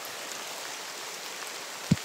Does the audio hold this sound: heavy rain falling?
yes